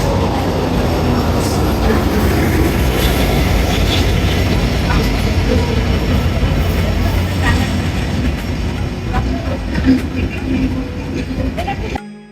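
A train pulling into a station, a loud continuous rumble and rattle of wheels on rails that fades slightly toward the end, with voices of waiting passengers mixed in.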